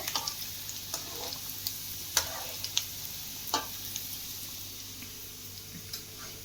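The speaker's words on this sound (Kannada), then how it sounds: "ಲೋ ಫ್ಲೇಮಲ್ಲಿ ಇಟ್ಕೊಂಡು ಕರೆದ್ರೆ ತುಂಬಾನೇ ಚೆನ್ನಾಗಿರುತ್ತೆ" Street-style momos deep-fry at home in oil over a low flame, giving a steady, moderate sizzle sprinkled with small crackles and pops at irregular intervals, with no voices.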